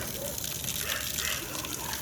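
Water gushes steadily and forcefully out of a neglected, drained water heater, a dense continuous rushing flow that holds a constant level throughout.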